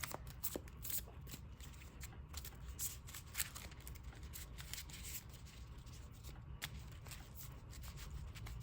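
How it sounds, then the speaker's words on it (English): A deck of trading cards is shuffled close by in quick, soft riffles and rubbing flicks, faint and continuous with light papery snaps. "Let's get a crazy shuffle on this one."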